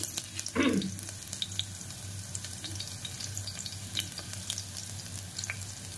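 Crushed garlic, cumin seeds and curry leaves fry in hot oil in a pan with a soft continuous sizzle, a louder burst early on, and light stirring scrapes throughout.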